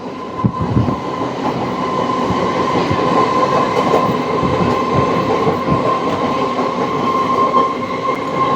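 An elevated train ride in Chennai, heard from inside the carriage as a loud, steady rumble with rhythmic wheel clatter and a faint high squeal, close and continuous with no talk.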